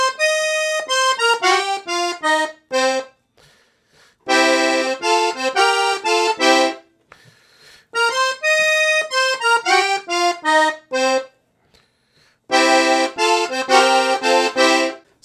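A piano accordion plays a blues call phrase over the first bars of a 12-bar blues, with bright reedy chords in bursts of quick rhythmic stabs separated by short pauses, loud and close with no talking.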